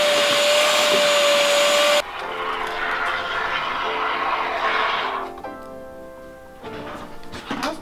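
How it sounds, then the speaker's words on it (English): A vacuum cleaner roars steadily up close as it sucks construction debris out from behind a wall in a barndominium, its pitch shifting as the nozzle moves and the airflow changes. "we're going to have to vacuum out all the construction crud behind there"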